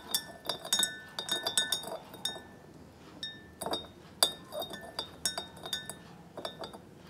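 Metal spoon stirring sugar into a glass of water, with a rapid series of light clinks against the glass, close and fairly quiet.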